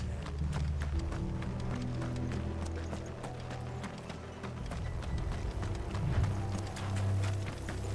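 Rapid, steady clip-clop of several horses galloping in the video game Final Fantasy XVI, a continuous drumming of hooves with no voices.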